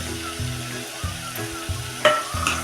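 Long-sliced tomato drops into a pan of oily fresh-ground masala for pea pulao and sizzles steadily, with spatula scrapes and a few sharp clinks over a low background hum.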